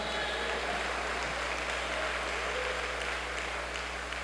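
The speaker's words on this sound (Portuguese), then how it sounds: "Aplauda o Senhor, dê um brado de vitória." Church congregation applauding during a Baptist communion service, a steady, dense patter of many hands clapping at a moderate distance over a low room hum.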